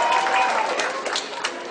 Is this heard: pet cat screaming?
no